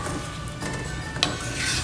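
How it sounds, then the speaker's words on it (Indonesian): Soft scraping and light clinks of a utensil stirring peanut sauce in a pan, a steady low rubbing texture with one brief metallic tap. "Kita aduk-aduk lagi."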